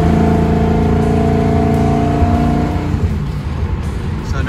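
A car engine with a fixed pinging and detonation problem revs hard at wide open throttle, a loud close drone holding its pitch and then fading into rougher noise, with no talk.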